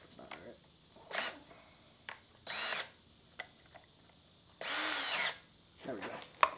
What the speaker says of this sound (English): We're gonna drill this hole for these valves.